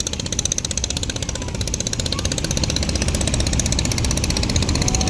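Large passenger launches bound for Dhaka: a loud, close, continuous engine rumble with a rapid rhythmic knocking pulse that holds steady and grows slightly stronger.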